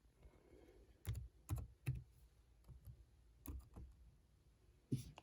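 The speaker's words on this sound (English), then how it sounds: "Let me type in my password." Separate keystrokes clack on an HP Stream 11-d010nr laptop keyboard as a password is typed, about nine close, crisp taps in an irregular rhythm over quiet room tone.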